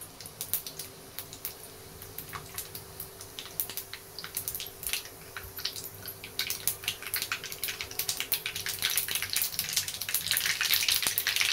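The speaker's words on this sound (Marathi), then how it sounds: "आपलं तेल गरम झालंय. आपण मोहरी टाकून घेऊया, जिरे पण टाकूया" Mustard seeds and cumin crackle in hot oil, a dense run of sharp pops and spits that grows busier and louder, steady and close with no talk.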